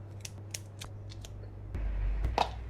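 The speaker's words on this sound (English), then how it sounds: "Once again, prawns, trim the legs," Kitchen scissors snip prawn legs and whiskers in a series of sharp close cuts, several quick clips followed by a duller crunching snip, with no talk.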